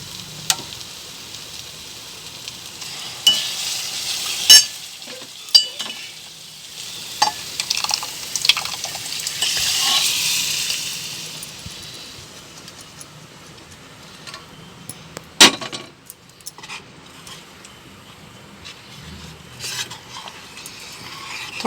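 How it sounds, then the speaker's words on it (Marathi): Thin colocasia-leaf (alu) curry poured into a pan of fried masala sets off a steady sizzle, with scattered metallic clinks of a spoon stirring against the pan, fairly close and without talk. "आपण आता आळूची भाजी ओतून घेऊ"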